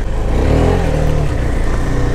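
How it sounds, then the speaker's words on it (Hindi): A KTM Duke 390 BS6 motorcycle engine runs loud and steady on an off-road mountain track, with a low, continuous throbbing drone that rises slightly in pitch before settling, heard close and without talk. "आजकल मेरी बाइक की साउंड काफी लाउड हो गई है"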